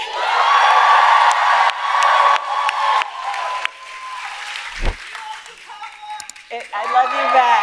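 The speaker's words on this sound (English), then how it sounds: "Can we please applaud" Audience applause at a Harris and Biden event, a broad wash of clapping with scattered whoops and cheers from a crowd, loud at first then thinning and rising again near the end.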